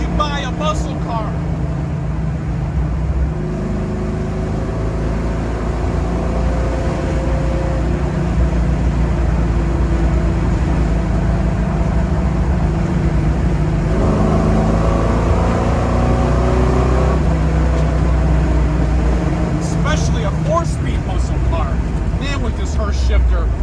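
A 1971 Chevrolet Nova muscle car with a Hurst-shifted four-speed drones loudly and steadily as it accelerates, with the engine note climbing through the gears from inside the cabin.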